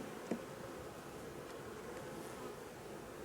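Honey bees hum steadily around an opened hive frame holding nectar and brood, a soft continuous drone throughout with one brief knock near the start.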